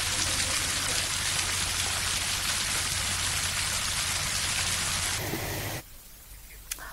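Heavy monsoon rain pouring steadily in a Rajasthan city, a dense continuous hiss lasting about six seconds before cutting off abruptly, loud and close with no voices.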